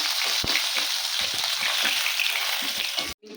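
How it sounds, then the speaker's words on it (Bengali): Hilsa fish frying in a little oil, giving a loud, steady, dense sizzle that runs continuously and then cuts off abruptly just before the end. "ইলিশ মাছ রান্নার জন্য মাছটা একটু ভেজে নিতে হবে"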